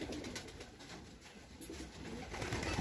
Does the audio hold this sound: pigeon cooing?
yes